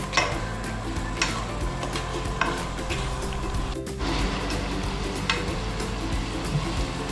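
Salted onions sauté in a pan, a steady close sizzle broken by scraping and tapping strokes of a stirring utensil.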